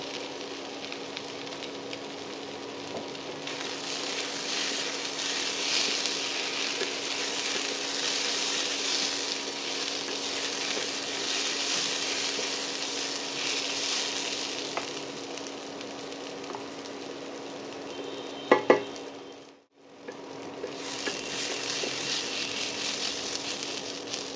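Steady broadband sizzle of food frying in a pan for meat khichuri, continuous and fairly loud for most of the stretch, with a couple of sharp clinks near the end and a brief drop to near silence before the frying resumes.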